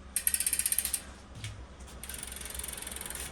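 Freehub ratchet of a Campagnolo Zonda aluminium bicycle wheel spinning: loud, rapid clicking in two bursts, the first sharp and quickening, the second a longer, steadier run of clicks after a brief pause.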